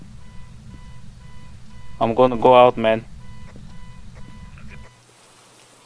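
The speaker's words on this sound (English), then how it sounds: "The car just gone beeping." In the video game Phasmophobia, a car alarm lets out a loud burst of rapid, repeating electronic beeps that lasts about a second. Someone talks over it and afterward.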